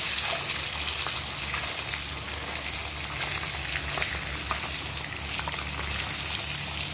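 Eggs frying in a pan with turmeric and salt, a steady close sizzle with fine crackling pops throughout, no voices.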